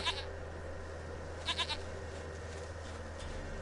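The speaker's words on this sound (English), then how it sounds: "Goat of mine, dearest, sweetest goat." A goat in a video game lets out short bleats, one brief call near the start and a cluster of two or three more about halfway through, heard over a steady game background hum.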